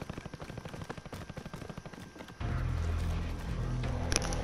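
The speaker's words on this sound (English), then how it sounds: "I can hear enemy footsteps, I think, from the stairs" Enemy footsteps in Call of Duty: Modern Warfare's Zombie Royale Halloween mode in Verdansk: a quick, steady run of close thumping steps, then a denser burst of noise that sounds like gunfire and commotion.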